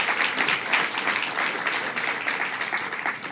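A crowd applauds steadily for an assemblyman at a property-tax legislation signing with the governor, a dense, continuous wash of clapping that holds at an even level throughout with no voices over it.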